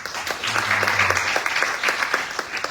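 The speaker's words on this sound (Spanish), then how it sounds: "Dale un fuerte aplauso al Señor." A church congregation claps loudly and steadily during an evening Spanish-language service, with dense, continuous applause and no talk over it.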